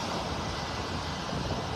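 Steady, roaring wind buffeting the microphone on a beach in North Naples, Florida, a constant broadband rush with no breaks.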